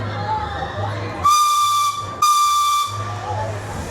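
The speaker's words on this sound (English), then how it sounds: "you will hear 2 loud whistles" Two loud, sustained steam locomotive whistle blasts from a train over 140 years old at Knott's Berry Farm, each about a second long, close by with a brief gap, over a low background hiss.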